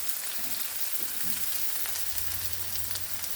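Frozen vegetables fry and caramelize in a hot pan, a dense, steady sizzle close up with scattered crackles and a low hum from the stove underneath.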